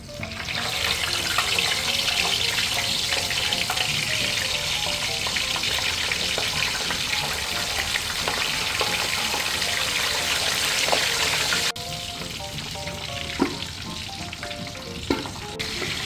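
Pork belly for lechon kawali deep-frying in a pot of oil, a dense continuous crackling sizzle that drops slightly in level partway, with a few sharp pops near the end, no talking.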